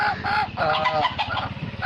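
Native chickens cluck close by on a farm in a quick, overlapping series of short calls, with busy flock chatter continuing throughout.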